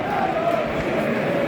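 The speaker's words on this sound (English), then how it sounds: "17th minute, and the minute's applause impeccably" Football stadium crowd giving a minute's applause at a Notts County match, a steady dense wash of clapping and crowd noise from all around the ground, continuous and fairly loud.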